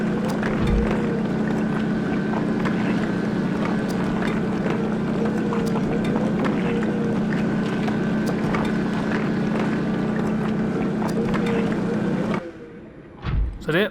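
Steady mechanical drone of a drilling machine in Subnautica, a loud continuous hum with grinding texture running without a break, then cutting out abruptly near the end.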